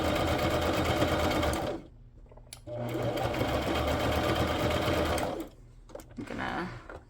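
A sewing machine threaded with black thread whirs in two steady bursts of rapid stitching, pausing briefly between them with soft handling noises, close and fairly loud.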